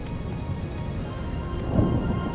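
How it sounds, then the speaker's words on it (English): Thunderstorm ambience from the video game RiME: steady rain hiss with low rumbling thunder that swells near the end, continuous and fairly loud with no talking. "So there's a storm coming."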